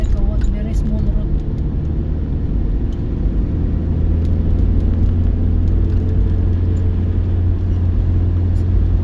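Car engine rumbling steadily along a very narrow rural road between Kuala Lumpur and Kampung China, a continuous close low drone with road noise throughout.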